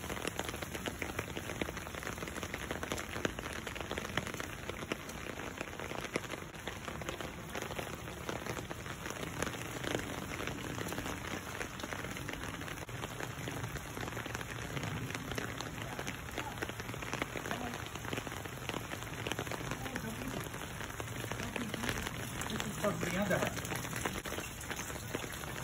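Steady rain pattering on a surface, continuous and even throughout, with faint talk now and then.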